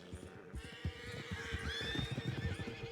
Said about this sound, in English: So not carrots. Wild horses.